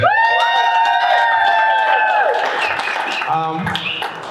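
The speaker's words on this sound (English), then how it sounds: "We could clap it up for her." An audience at a brokerage grand opening erupts in a loud, ringing whooping cheer that dips into mixed crowd cheering and scattered clapping, close and energetic throughout.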